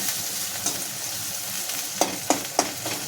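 Onion, tomato, ginger and garlic masala fries in a pan, a steady close sizzle broken by a few sharp scraping strokes of a spoon near the end.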